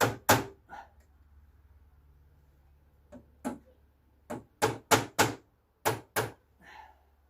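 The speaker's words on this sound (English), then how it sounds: "So I'm going to hammer it a little bit." A hammer taps on a synchromesh part from a Peugeot 404/504 BA7 four-speed gearbox during a repair. About eleven sharp, separate knocks come in irregular bursts against a quiet background.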